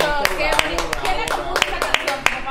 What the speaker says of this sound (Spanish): aplauso, qué bonito